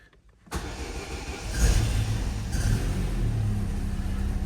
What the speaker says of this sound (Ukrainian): Ну давайте пробуємо заводити.